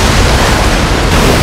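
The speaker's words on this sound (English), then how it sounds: "The water is getting rid of the sludge." Loud, continuous rushing water surges in The Legend of Zelda: Tears of the Kingdom, washing sludge away during the Mucktorok boss fight, a dense roar that does not pause.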